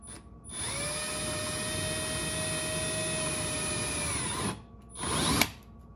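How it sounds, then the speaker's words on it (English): A power drill whines steadily for several seconds while boring holes to mount a rear diffuser on a VW MK7.5 GTI, then stops and gives a second short burst. "we'll show you some detail about drilling the holes and then bolting it all together"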